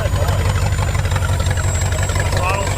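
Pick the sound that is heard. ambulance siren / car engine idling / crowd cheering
car engine idling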